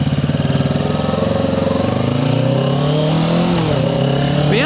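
A small beginner motorcycle's engine idles with a rapid pulsing putter, then revs up and settles, loud and close, with no talk.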